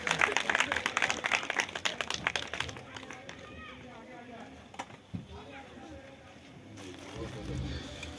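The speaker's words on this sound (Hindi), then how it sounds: "सभी तालियां बजाकर इनका स्वागत करेंगे।" Applause from a crowd welcoming guests at an anniversary honoring ceremony held at a cow shelter, dense for about three seconds before fading into a quieter stretch with background voices and scattered noise.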